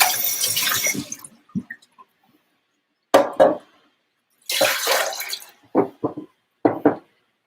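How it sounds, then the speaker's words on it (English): A strainer used for making almond milk is rinsed under a running tap in loud, close bursts of gushing water, separated by short silences and a few drips. "I'm gonna rinse this out and use it."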